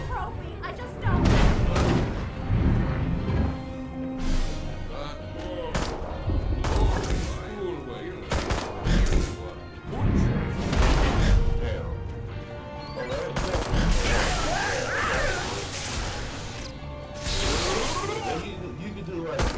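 Destroy All Humans weapon fire erupts repeatedly amid crashes, thuds and explosions, irregular loud bursts over a busy game soundscape with a person talking throughout.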